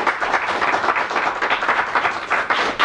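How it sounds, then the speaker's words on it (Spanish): Television studio audience applauding a guest's entrance, continuous brisk clapping from many hands, even and moderately loud throughout the short stretch. "fuerte ese aplauso, Santo Biasati."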